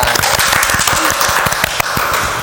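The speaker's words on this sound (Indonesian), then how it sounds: "tepuk tangan dong" A few podcast hosts clap steadily and briskly at close range for a couple of seconds, with dense, rapid hand claps and no talking.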